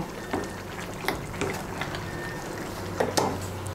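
Lau posto, bottle gourd with poppy seed and fried bori, cooking over high heat in a pan, with a soft steady sizzle and bubbling broken by a few stirring scrapes and clinks of the spoon.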